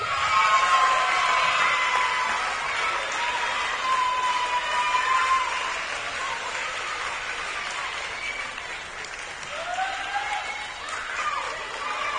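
Applause at a primary school sports awards night, steady clapping from an indoor crowd that slowly thins, with voices talking underneath.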